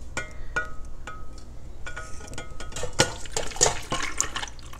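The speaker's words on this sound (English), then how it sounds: "we're going to open that up and pour that on just a big pile of ice." Concentrated hibiscus tea poured over a big pile of ice, with irregular liquid splashes and sharp clinks and crackles of ice, close and moderately loud.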